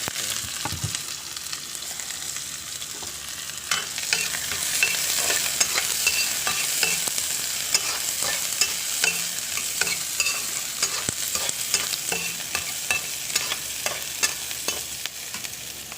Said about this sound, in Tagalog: Igisa ako guys ng bawang sibuyas.